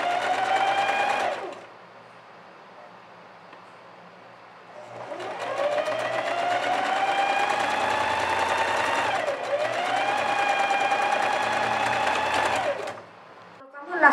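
Sewing machine stitching an elastic band onto fabric, two long loud whirring runs with a pitch that rises and dips briefly mid-run, separated by a quiet pause, close and clear with no talk.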